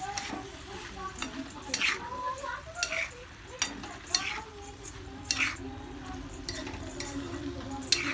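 Chana dal and bottle gourd being stirred in a pan produce intermittent metallic clinks and scrapes of a spoon against the pan, heard under a person talking.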